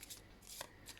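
Deck of cards being shuffled for a reading, quick soft riffling bursts close by and fairly quiet, with no talking.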